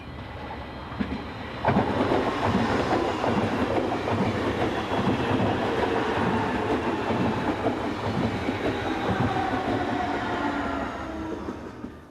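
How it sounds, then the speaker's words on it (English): A pair of Class 425 electric multiple units slows into a station stop on the Koblenz to Mönchengladbach route, giving a steady close rumble with rhythmic wheel clatter over the rails and faint squeal, sustained throughout before easing slightly at the end. "a pair of Class 425 electric units slow for the station stop"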